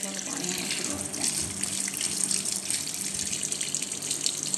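Water running steadily into a washing machine as it fills, a continuous rushing, splashing flow at moderate level with no talk over it.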